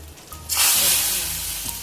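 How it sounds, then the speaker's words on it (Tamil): Mustard seeds and curry leaves dropped into hot oil for a Kanyakumari-style fish curry with drumstick, a sudden loud burst of sizzling hiss that stays strong and gradually eases over a couple of seconds, close up and without talk. "கடுகு பொரிஞ்சதுக்கப்புறம் கருவேப்பிலை கொஞ்சம் போட்டுட்டு"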